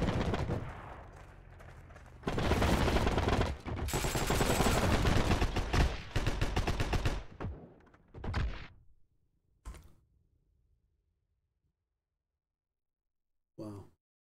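Gunfire in the online shooter Heroes and Generals: a dense run of loud shots and bursts for several seconds, then a few scattered isolated cracks with quiet gaps between them.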